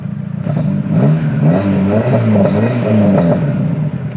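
A truck camper's engine is running and revving close by, loud and throaty, with a rumbling low drone that rises and falls through several revs and some rattling clatter, no voices.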